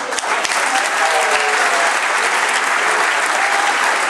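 Loud, dense applause from an audience at a school graduation and diploma ceremony in Twello, steady sustained clapping filling the whole stretch without letting up.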